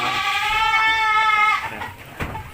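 A goat at an Indonesian livestock trader's pen gives one long, loud, wavering bleat close by, then a short rustle and a faint thump as it fades.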